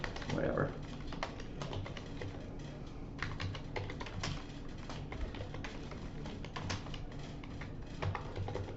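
Someone types steadily on a computer keyboard during a recorded lecture, a close, busy run of quick clicky keystrokes with brief pauses and no speech over it.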